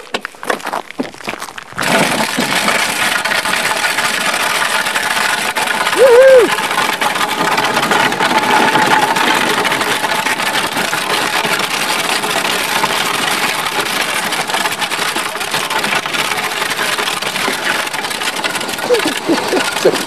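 A car engine runs continuously for about eighteen seconds after a short pause, holding a steady, fairly loud drone with a faint rising tone partway through, as a girl drives along a main street.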